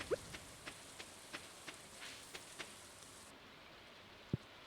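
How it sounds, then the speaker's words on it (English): Rain falls in the farming game Stardew Valley as a faint, steady patter with soft ticks at regular intervals. The high hiss cuts away partway through, and no one speaks. "Rainy day."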